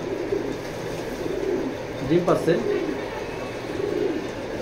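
Pigeons coo softly in a low, throaty burst, with a person talking over steady background noise.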